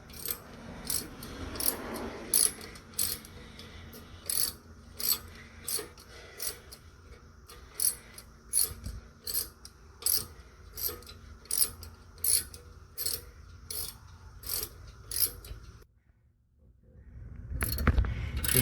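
Ratchet tightening a brake caliper guide pin on a BMW 5 Series, a close rhythmic series of quick clicking ratchet strokes with metallic ticks, steady and repeated, then a brief pause and a final rustle.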